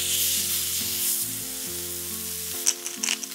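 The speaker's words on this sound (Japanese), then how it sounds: "しっかりと温まったら塩コショウを振った面を下にしてステーキ肉を焼きます" A steak sizzles on a thick, preheated camping iron griddle greased with beef fat, seasoned with salt and pepper. The frying hiss is loud and continuous, with background music and a few clatters near the end.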